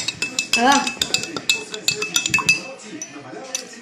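A spoon stirs sparkling water in a glass, making rapid, bright clinks against the sides while voices talk over it.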